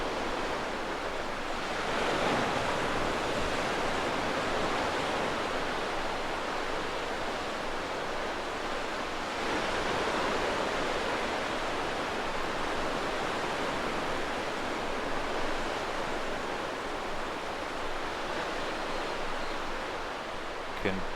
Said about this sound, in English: Just relaxing when you hit the ocean like this.